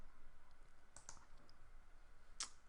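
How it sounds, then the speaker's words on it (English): Mouse clicks on an invite button in a web dashboard: a couple of faint clicks near the middle and a sharper, louder click toward the end, set against a quiet room with no talking. "Then we'd click this invite button here"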